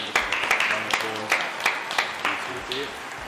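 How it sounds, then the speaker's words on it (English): A studio audience claps after a talk-show interview: a burst of applause with sharp individual claps, heard under a presenter's voice. "Let's all give a round of applause."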